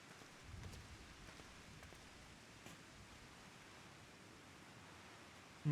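Video game rain falls as a soft, steady hiss of drops on the ground, faint and even throughout with no voices, ending on a short louder bump.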